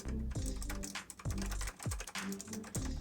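Typing on a new Razer Huntsman mechanical keyboard produces a fast, steady run of close key clicks, quiet overall, with a few heavier thumps between strokes.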